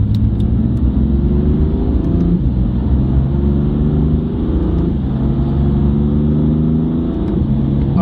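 A BMW M4 running a Stage 1 tune accelerates hard, its engine droning loud and steady with rising tones through several gear changes, heard from inside the car without talk.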